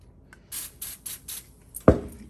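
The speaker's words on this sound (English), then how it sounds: "So what I do, I spray only a little bit." Cleaner sprayed sparingly inside a Breville smart oven air fryer in four short, hissing bursts in quick succession, followed by a single sharp knock as the bottle is set down.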